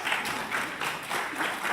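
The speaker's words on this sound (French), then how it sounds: "Vous pouvez l'applaudir" An audience claps at a conference, a moderate, even patter of applause that swells and eases in soft waves throughout.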